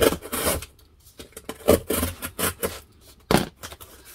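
A blade cuts through a cardboard packing box in short rasping strokes, close and fairly loud, with irregular pauses between cuts.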